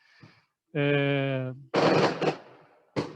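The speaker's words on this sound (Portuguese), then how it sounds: "Eu moro perto de um estádio de futebol, então às vezes acontecem uns rojões aqui." Firecrackers bursting near a football stadium, heard as loud, sharp crackling explosions in two dense bursts after a sustained tonal sound, with a brief voice at the start.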